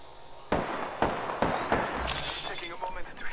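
Gunshots in a battle royale game ring out as four evenly spaced loud cracks about half a second apart, followed by a dense rush of noise.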